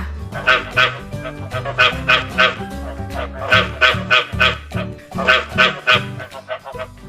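Loud, close frog croaking in rhythmic groups of deep, throaty calls that repeat again and again.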